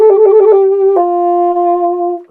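Solo saxophone plays a Baroque trill, a quick wavering alternation between two notes that resolves early onto a long held tone. The tone is clear and close and fades out at the end.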